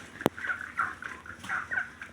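Chickens cluck in a steady run of soft, rhythmic calls close by, with one sharp knock near the start and no voices.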